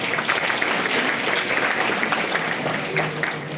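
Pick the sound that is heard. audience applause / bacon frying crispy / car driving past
audience applause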